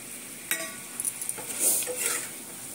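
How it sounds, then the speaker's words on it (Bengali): A spatula stirs a cauliflower vegetable curry in a pot: quiet, close scrapes and light clinks of metal against the pan, with a soft sizzle underneath. "খুন্তি দিয়ে ওইভাবে একটু নাড়িয়ে নাড়িয়ে দিতে হবে"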